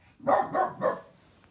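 A family dog lets out three quick, loud barks in a steady rhythm close to the listener, then goes quiet; no one speaks.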